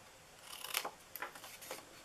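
Scissors snipping into paper card while shaping a treat box, a few quiet crisp cuts in quick succession, close and soft against a hushed room.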